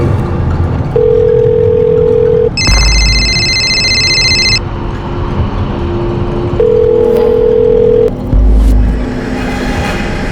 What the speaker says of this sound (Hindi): मैं तेरे अब्बू को कब से फोन लगा रही हूँ, फोन नहीं उठा रहे।